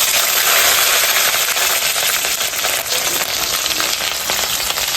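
Green chilli hitting hot oil tempered with cumin seeds, for a taro and tengra fish curry: a loud, dense, continuous close sizzle with rapid crackling that holds steady throughout.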